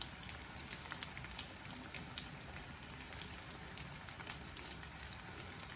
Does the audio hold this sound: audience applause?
no